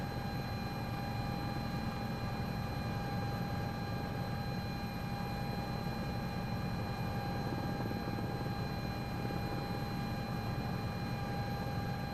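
Steady cabin drone of an EMS aircraft in flight, a constant engine hum with strong low rumble and fixed high tonal whine, loud and unbroken throughout with no talking.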